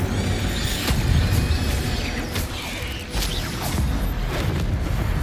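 The Incendio fire spell cast in Hogwarts Legacy during a fight with spiders: whooshing, booming bursts over a grinding, creaking backdrop of game effects, loud and continuous with several sharp hits.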